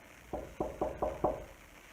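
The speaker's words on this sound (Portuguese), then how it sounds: "E então ele bateu na porta." Knocking on a house door: five evenly spaced, firm knocks in quick succession, close and distinct against a quiet background.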